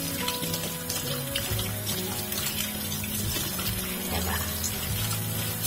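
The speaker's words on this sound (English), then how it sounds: "I'm just going to wash my plantain really well" Running water from a tap splashing over plantain as it is washed in a kitchen, a continuous close trickle and splatter with shifting tone, with background clatter and some voices.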